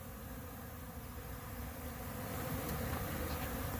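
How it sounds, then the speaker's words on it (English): Hungry spring honeybees buzz steadily at their hives after a winter of pollen feeding, a dense, continuous drone of many insects close by that swells slightly louder toward the end, with no voices. "This is how hungry these spring bees are at Barnyard Bees."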